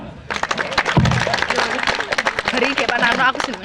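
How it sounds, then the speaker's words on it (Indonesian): Audience applause at a school farewell roast event, a dense crowd clapping steadily for several seconds with voices talking over it. "Dan boleh minta tepuk tangannya untuk"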